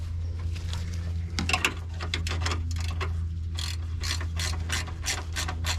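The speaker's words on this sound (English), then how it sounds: "ratchet" Rapid clicking of a ratchet wrench working in a tight space on a 2003 Toyota Camry during a condenser coil replacement, bursts of close, sharp pawl clicks over a steady low hum, with no talking.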